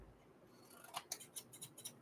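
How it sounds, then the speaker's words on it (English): A new pair of scissors snipping through material: about six crisp, close cuts in a quick, fairly even rhythm after a quiet opening, with no talking. "And a new pair of scissors."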